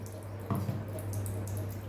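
Coconut milk squeezed from a cloth for coconut pudding, dripping and trickling steadily at close range, with one brief louder splash partway through over a low background hum.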